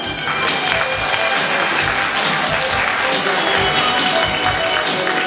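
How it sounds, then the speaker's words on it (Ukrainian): A festival audience claps steadily and fairly loudly for about five seconds, a dense even patter of many hands with no voices rising above it. "Привітаємо оплесками!"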